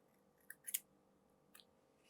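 Scissors snip through pieces of double-sided tape in a quiet room, a few short, crisp cuts spaced irregularly, close and clear with no talking.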